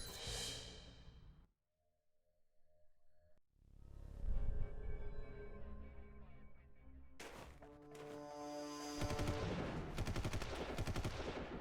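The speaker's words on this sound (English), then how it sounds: "there's already a shootout going on here" Gunfire in a shootout in the video game Alpha Protocol: a sharp burst opens, then a quiet lull, then dense rapid volleys of automatic and single shots with metallic impacts, loud and continuous toward the end.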